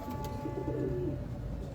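A pigeon gives a soft, low cooing call that rolls on briefly against a steady background hum, nearby and moderately faint, with no talking.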